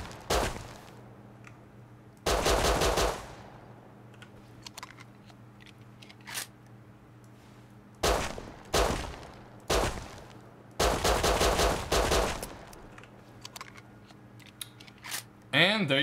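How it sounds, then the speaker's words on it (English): Semi-auto pistol fire in the survival video game Rust: loud, sharp shots arrive in scattered single cracks and short rapid clusters, separated by quieter pauses with a low steady background hum. "And last, the semi-auto pistol."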